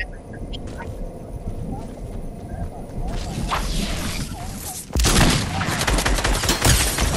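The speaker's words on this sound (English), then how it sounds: "He's shooting at me" Rapid bursts of gunfire in the Fortnite video game, scattered shots early then a louder, denser volley near the end, with a player's voice talking over the battle.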